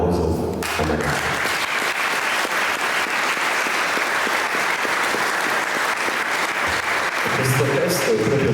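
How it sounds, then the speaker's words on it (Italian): Sustained audience applause at a Sardinian event against violence toward women, dense clapping from a crowd that swells after a short spoken line and carries on steadily, with a voice returning near the end. "a cui sempre va fatto un applauso a Maria Carta."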